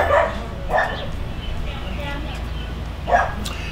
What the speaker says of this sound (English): We got the dogs barking again.